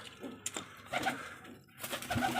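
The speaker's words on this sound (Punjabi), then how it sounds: "ਆਪਾਂ ਆ ਗਏ ਹੁਣ ਛੱਤ ਦੇ ਉੱਤੇ ਕਬੂਤਰਾਂ ਦੇ ਕੋਲੇ ਆ ਆਪਣੇ ਵੱਡੇ ਕਬੂਤਰ" Pigeons coo softly on a rooftop, a few low murmuring calls near the microphone with small rustles and bumps between them, quiet overall.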